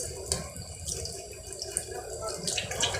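Running water from a tap splashes over hands being rubbed with a soap bar at a sink, a soft continuous wash with small wet squelches, fairly quiet and close.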